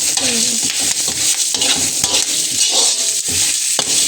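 Fresh curry leaves fry and crackle loudly in hot oil in a pan, with a steady close sizzle and occasional stirring scrapes, no voices.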